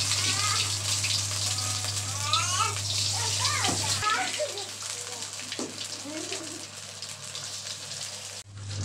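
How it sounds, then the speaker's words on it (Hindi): Aloo pinwheels fry in hot oil over medium heat, giving a continuous close sizzling hiss that stays steady throughout, with a voice briefly audible in the middle. "उतारने के बाद हम ऑयल के अंदर इसको इस तरीके से छोड़ देंगे।"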